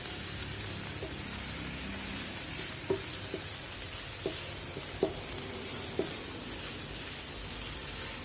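Shakshuka vegetables sauté in a pan with a quiet, steady sizzle, broken by a few soft clicks of stirring spaced a second or so apart.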